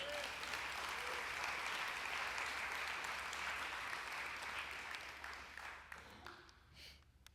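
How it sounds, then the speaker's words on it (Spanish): Sustained applause from a large church congregation, steady and loud, then thinning out and fading near the end with a few scattered claps. "Si va a dar un aplauso al Señor, déselo con fuerza"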